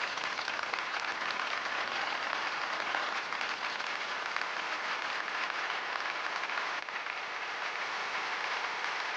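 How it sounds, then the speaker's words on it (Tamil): An audience claps steadily to welcome a fire performer onto the stage, a dense, even wash of applause that holds without letup from start to finish, with no voices over it. "கைத்தட்டலோட வரவேறுங்க ப்ளீஸ்."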